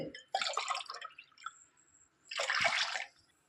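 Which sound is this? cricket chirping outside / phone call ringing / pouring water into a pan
pouring water into a pan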